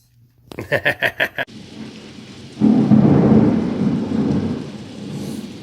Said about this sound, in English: this is a nasty, nasty storm moving in